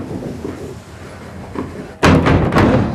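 Sack hoist trapdoors in a Victorian mill bang open at once, a loud sudden thud followed by rattling clatter, after a quieter stretch of faint creaking and low rumble.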